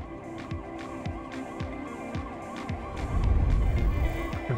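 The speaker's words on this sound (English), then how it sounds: "I can hear police sirens," Police sirens wail in the Cartel Tycoon video game, a repeating rising and falling tone that pulses steadily over a low hum, with a louder rumbling swell near the end.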